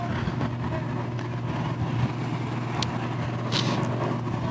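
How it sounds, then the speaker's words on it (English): Fire truck engines start up and idle at a firematic racing tournament track, a steady low diesel rumble held throughout with a faint mechanical hiss near the end, no talk over it. "Firing up those B trucks down there always sounds good."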